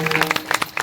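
A kirtan audience in a Marathi village gives a brief round of scattered hand claps, loose and uneven, over a faint steady hum from the sound system.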